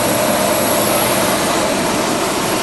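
A passenger airplane's engines roar steadily during arrival in Kathmandu, a loud, constant broadband rush with a high whine, heard from inside the cabin.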